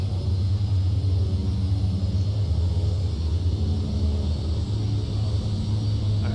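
Embraer EMB 120 turboprop airliner on a high-speed taxi, a heavy continuous low rumble with steady engine drone, loud and close throughout with no voices.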